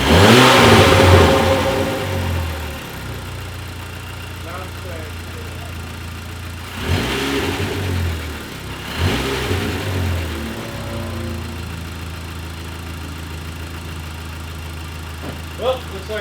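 A car engine with its turbo muffler deleted revs, opening with a loud burst and then idling, followed by two more sharp rev blips with a faint turbo whoosh, close by, with voices talking between them.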